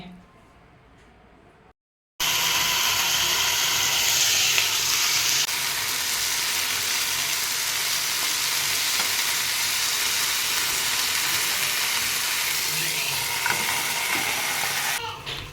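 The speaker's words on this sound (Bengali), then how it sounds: "এই তাওয়াটাতে ভালোভাবে কুক করে নিয়ে এখন এইটাতে জাস্ট একটু পোড়ানো হচ্ছে" Chicken tikka sizzles and chars on a hot tawa, a loud, steady frying hiss that begins abruptly after a brief quiet moment and carries on unbroken, close up.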